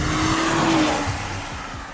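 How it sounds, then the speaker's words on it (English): A 2021 Audi RS5 Sportback Quattro drives past on a wet road, tire hiss and spray over a rising then fading engine note, close and fairly loud. "perfect day to be driving the RS5 Quattro Sportback."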